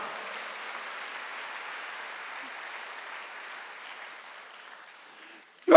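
A church congregation applauding steadily at a Wednesday service, a dense wash of clapping that gradually fades, then a sudden loud knock or thump at the very end.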